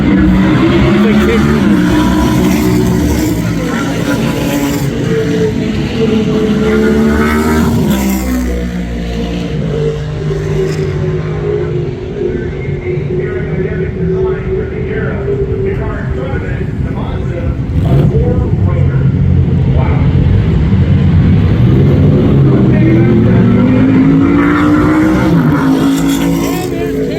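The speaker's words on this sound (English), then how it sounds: "Those GT cars are always out front." GT race cars lapping a track at the 2025 Rolex Motorsports Reunion, loud engines droning and revving continuously as cars pass, with a voice talking over the noise throughout.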